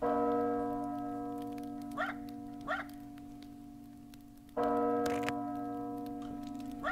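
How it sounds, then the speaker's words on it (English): A bell in the video game The Witch's Isle rings out with a sustained, resonant tone, struck again midway so that a fresh peal swells over the lingering hum, with faint ticking accents. "that bell has been silent for ages. I can't believe it's ringing."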